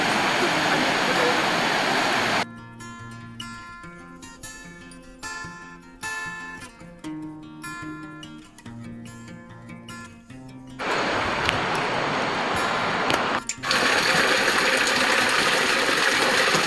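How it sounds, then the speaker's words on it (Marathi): Perennial mountain spring water near Keshavraj gushes with force, a loud, steady broadband rush at the start and end, interrupted mid-way by tonal sounds that may be voices. "12 महिने पाणी येतच असतं आणि ते खूप फोर्सने येत असतं"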